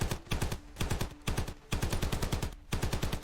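Rapid bursts of automatic gunfire from a gun in the video game Ravenfield, firing in several quick rattling volleys separated by short pauses, loud and close with no talking.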